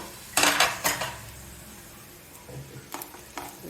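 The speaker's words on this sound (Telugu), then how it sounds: "మూత పెట్టేస్తున్నాను కదా" A lid clatters onto a pan of frying raw banana pieces: a couple of sharp metallic clanks close together, then a quieter stretch with faint sizzling and a few light knocks.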